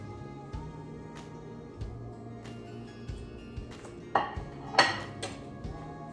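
Cutlery pushes cauliflower fried rice onto a plate, giving a series of light scrapes and a few sharper clinks of metal on the dish, close and moderately loud over a soft kitchen background.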